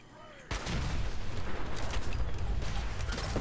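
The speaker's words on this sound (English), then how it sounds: "somebody's still shooting missiles at us" A missile launcher fires at the player in Fallout 4, bursting in suddenly after half a second as a loud, dense roar of blasts and rumble that continues without a break.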